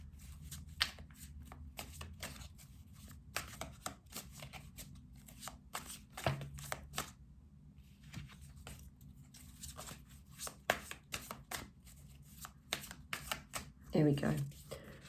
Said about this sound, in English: I'll just give them a little bit of a shuffle.